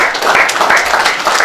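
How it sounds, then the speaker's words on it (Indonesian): A short burst of congregation applause during a Christmas service at a church, steady clapping from a gathered crowd filling the moment without talk over it. "tepuk tangan buat Krishna"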